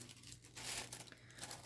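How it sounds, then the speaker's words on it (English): Plastic bag from frozen waffles or pancakes crinkling up close, a continuous rustle with louder crunchy swells, heard alone. "So I've just got a plastic bag that I had from, I think, some frozen waffles or frozen pancakes or something."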